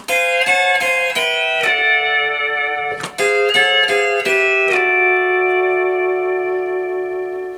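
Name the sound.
pedal steel guitar lick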